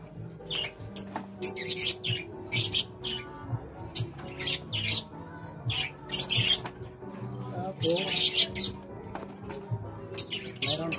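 Pet birds fed an African seed mix chirp and squawk continuously, bright sharp calls overlapping in quick irregular bursts, near and fairly loud, with low background noise underneath.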